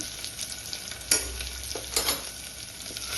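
Cumin and mustard seeds sizzle in hot oil with chillies, alongside ginger-garlic paste, in a steady frying hiss broken by a few sharper crackling bursts as the spoon stirs, with no voices.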